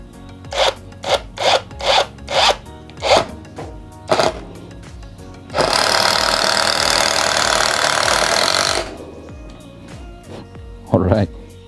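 An impact drill fires in a quick series of short bursts, then runs in one long continuous whir for a few seconds before stopping, with a brief final burst.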